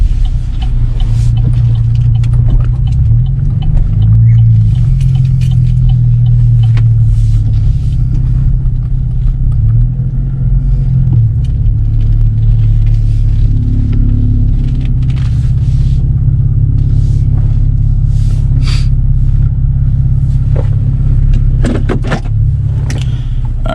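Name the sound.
Chevrolet Camaro V6 with MRT V1 exhaust revving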